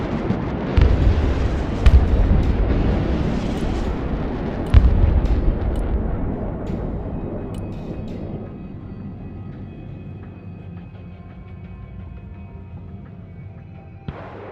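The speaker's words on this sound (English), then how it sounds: "Incoming ballistic missiles!" Ballistic missiles strike in the Broken Arrow game as a few heavy booming explosions at the start, followed by a long rumbling roar that gradually fades toward quiet.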